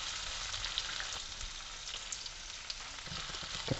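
Capsicum and prawns fry in a pan with a steady, close sizzle and crackle that holds through the whole stretch, with no voices over it.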